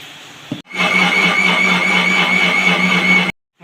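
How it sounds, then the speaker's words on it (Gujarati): A mixer grinder whirs loudly as it crushes garlic and green chillies with water, starting abruptly after a brief knock, holding a steady high-pitched motor whine for nearly three seconds, then stopping dead. "હવે આ બધું જ મિક્સ કરીને આપણે ક્રશ કરી લઈશું"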